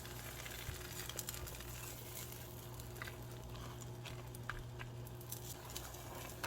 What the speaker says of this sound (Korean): 꾹꾹 눌러주면서 노릇노릇하게 구워줍니다